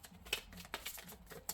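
Tarot cards being shuffled by hand, heard as a quick run of soft riffling taps and flicks, close and fairly quiet, with no speech over them.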